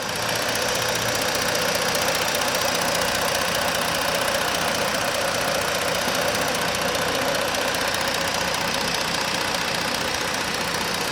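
A 2017 Ford Taurus Police Interceptor's 3.7-liter all-wheel-drive engine idles evenly throughout, with a continuous low rumble and a faint ticking knock, no voices over it.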